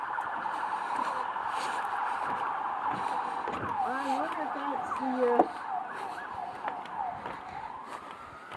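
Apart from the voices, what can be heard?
emergency vehicle sirens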